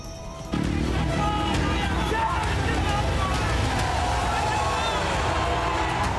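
A dense, excited crowd at an Owaisi rally near Varanasi airport swells in suddenly after a quiet start, then holds as a steady loud roar of many overlapping voices and shouts.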